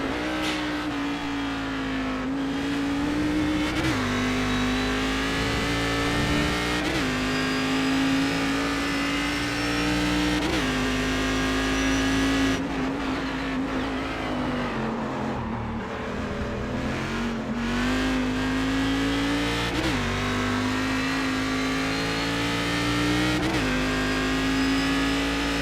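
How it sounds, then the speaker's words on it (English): A Cadillac race car engine drones and revs continuously on track, its pitch climbing and dropping with each gear change, loud and close throughout. "you can hear me struggling with the car"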